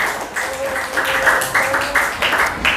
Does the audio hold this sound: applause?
yes